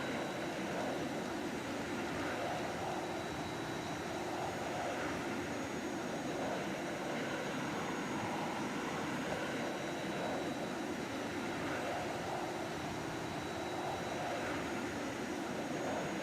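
A steady, unbroken roar of airliner engines on the runway for takeoff in the Prepar3D flight simulator, loud and constant with no clear rise or fall throughout.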